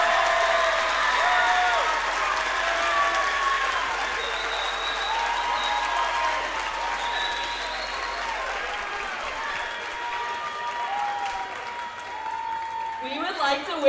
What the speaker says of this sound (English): Let's have one more round of applause for our senior basketball players and their parents.